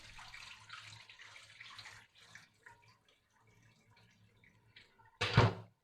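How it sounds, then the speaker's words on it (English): Water used to rinse rice is poured out of the pot and away, a few brief splashes and trickles followed by one louder, close gush of running water at the end. "You just pour the water away."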